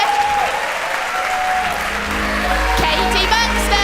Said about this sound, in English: Let's give her a cheer.